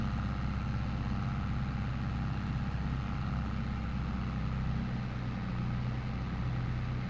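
A struggling tractor engine in a farming game drones steadily and loudly at low pitch, a continuous labored hum that never lets up for the whole stretch.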